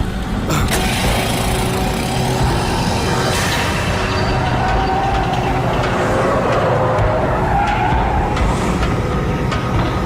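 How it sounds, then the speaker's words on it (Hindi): A car arriving with skidding tires, a sustained loud engine roar and tire squeal building and sweeping over several seconds, heard without talk. "भाई की गाड़ी आ गई।"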